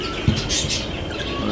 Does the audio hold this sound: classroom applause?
no